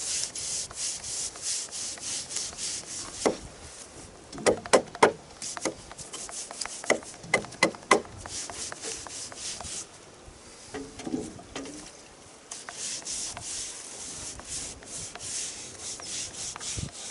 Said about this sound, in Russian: Докрашиваю сейчас пятую доску и продолжим монтаж.